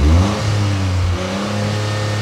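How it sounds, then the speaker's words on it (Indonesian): A Toyota GR Corolla's engine revs up close and loud, the throttle blipped and then held, with a steady, droning exhaust note that stays strong throughout and has no talk over it. "Terasa, benar-benar terasa dengungnya dari knalpot itu tuh terasa merdu sekali suaranya."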